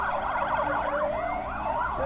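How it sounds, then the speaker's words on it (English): Video game siren wails steadily in rapid rising and falling sweeps, continuous and fairly close, with no talk over it. "a passing siren catches our attention"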